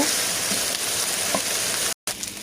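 Dried fish (shutki) frying in a pan for a bottle gourd leaf bharta, a steady close sizzle with faint crackles throughout and a brief dropout near the end.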